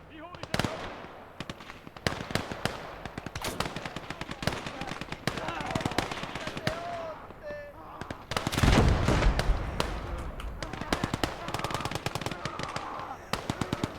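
Rapid machine gun bursts and scattered gunshots crackle through a World War battle in the strategy game Motherland, steady throughout with heavier blasts midway, while a commander's voice gives orders over the fire.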